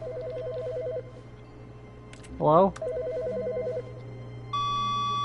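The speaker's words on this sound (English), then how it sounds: "There's a phone." A telephone in The Stanley Parable rings with a repeated electronic trill in two bursts, broken by a short voice, then a steady tone follows as the line connects.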